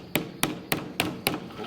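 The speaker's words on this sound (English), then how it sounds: "I'll just tap it a bit and you'll see the water will just come gushing" Five sharp, evenly spaced taps on an ice mould to release a clear ice block, each a crisp close knock in a quiet room, with no voices.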